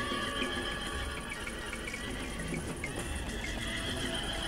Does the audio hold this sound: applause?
no